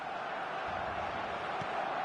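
Steady roar of a large football crowd at a Barcelona match day in the stadium, a dense continuous wash of massed voices with no distinct shouts standing out.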